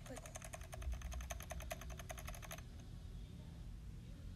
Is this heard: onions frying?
no